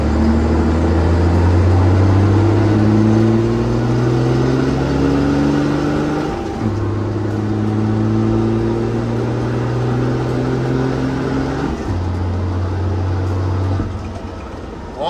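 A drag racing truck's engine roars loud and close as it accelerates, its pitch climbing steadily before dropping at each gear change, with two shifts heard, the last one into sixth, then the drone carries on.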